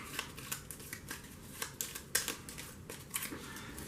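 Star Trek CCG playing cards being shuffled, a quick run of soft papery riffles and snaps, close and fairly quiet with no voices.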